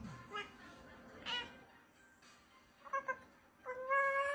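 Pet cat meowing in a home, several short cries spread through the clip, the last ones longer and clearer, with a person talking quietly around them.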